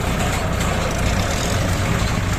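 A Kubota L5018sp tractor engine runs in a palm plantation in the rain, a loud, steady, unbroken drone close by with no speech over it.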